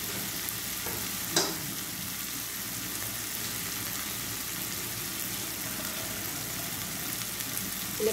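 Squid sizzles and fries in a pan for adobong pusit, a steady crackling hiss up close with a single sharp clatter partway through and no talk.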